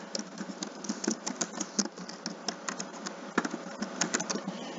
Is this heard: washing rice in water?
no